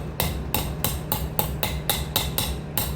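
Hammer blows on the motor of an Electrolux washing machine, knocking it into place: nine evenly spaced sharp metallic strikes about a third of a second apart, close and loud, with no talking.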